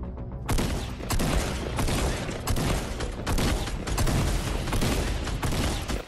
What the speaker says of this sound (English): I shot him with the shotgun.